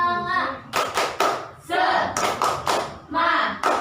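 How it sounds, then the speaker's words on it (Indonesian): A group performs the tepuk semangat clap routine, with sharp rhythmic bursts of hand clapping alternating with loud chanted voices, close and energetic. "Tepuk semangat."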